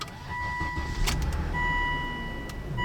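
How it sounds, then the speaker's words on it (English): A 2006 Volvo S80 T6 engine cranks and catches, settling into a steady idle, with a repeating electronic chime from the car sounding over the engine throughout. "let's start the car up and see what happens."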